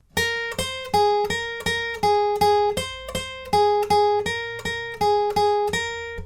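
A guitar plays the third line of the riff from a song, a steady run of plucked, ringing notes in a repeating rhythm, clear and close with no voice.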